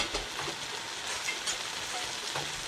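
Ground hamburger meat frying in a Teflon pan, a steady broadband sizzle with faint crackles and occasional stirring scrapes, close and moderately quiet, no voices.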